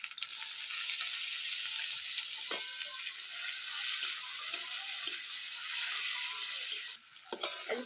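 Tomato goes into a hot pan of shrimp curry spiced with ground coriander, cumin and chilli paste, giving a steady, close, bright sizzle with faint clinks and stirring, and no talking.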